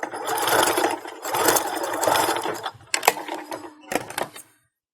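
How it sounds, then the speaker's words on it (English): A sewing machine stitches and back-stitches a seam on a Christmas stocking, with several short bursts of whirring at close range and brief pauses between them. "I'm going to go ahead and sew that spot."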